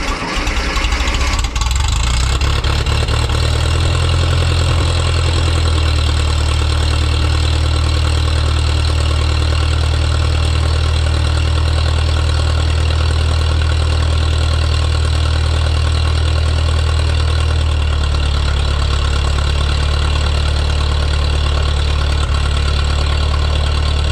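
A vintage TO-30 tractor engine idles loud and close on a cold first-snow day, warming up with a steady low rumbling chug and a slight drop in pitch near the end. There is no talk over it.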